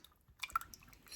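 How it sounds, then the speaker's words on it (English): Sauce poured over a dish of baked beef tips gives a quiet, brief wet splat and a few drips, with the strongest burst near the middle of a short, otherwise hushed moment. "So let's just pour this right over our beef tips."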